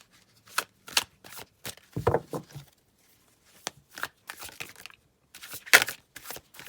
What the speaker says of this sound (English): Bear with me while I shuffle the cards and lay them out.